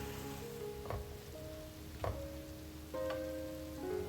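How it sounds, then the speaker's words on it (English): Onions, mushrooms and green and sweet red peppers cook in a pan with a steady low sizzle, broken by a few soft stirring scrapes and clicks, with no voices. "When onions change color, add the mushrooms. Cook them well."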